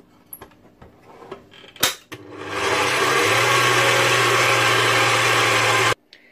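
A kitchen mixer starts after a few clicks and knocks and runs steadily with a loud whirring hum for about four seconds, mixing pumpkin bread dough with flour and baker's yeast, then cuts off abruptly.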